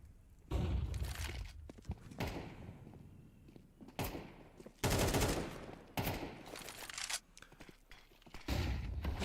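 Bursts of M4 rifle fire in a Counter-Strike match, several loud broadband shot clusters at intervals with brief quieter gaps between them, under the game's steady background.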